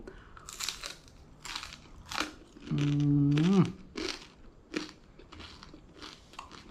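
Someone chews a crunchy grilled snack from Thailand up close, with repeated crisp bites and crunches spaced irregularly and a brief hummed tone partway through.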